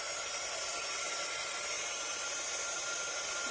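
A heat tool blows steadily while melting embossing powder on a handmade Christmas card, a close, continuous hiss like a hair dryer with no pauses or talk.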